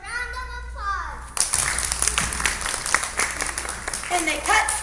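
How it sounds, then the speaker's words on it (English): A children's audience claps after a story reading, breaking into sudden, dense applause that runs steadily for several seconds, with a voice heard just before it and children's voices mixed into the clapping. "Let's give them a round of applause."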